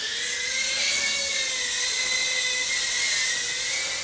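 A Bwhoop03 Pro tiny FPV drone with 8mm motors flies indoors, giving a steady, high-pitched whining buzz that shifts slightly in pitch with throttle, close and continuous throughout.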